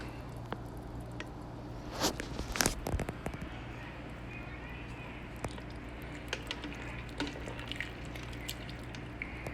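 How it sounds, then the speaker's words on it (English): A pot of seafood and sausage gumbo with crab legs and shrimp is stirred, giving soft wet squishes and drips with a louder splashy stretch partway through, close and quiet over a low steady hum. "We're just going to give this a stir."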